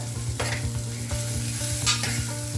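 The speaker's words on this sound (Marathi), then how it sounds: "1 वाटीचं ते फुलवून मोड येऊन 3 वाट्या होतं. ते आपण थोडंसं परतूया" Sprouted moth beans sautéing in a pan with a little asafoetida, a loud continuous frying sizzle broken by a few soft stirring scrapes.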